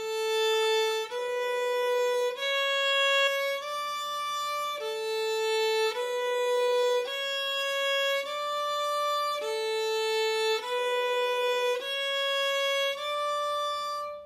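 A violin plays a rising finger exercise up a single string, eight sustained bowed notes stepping upward in a steady, even pattern and then repeating, heard close and clear with no talking.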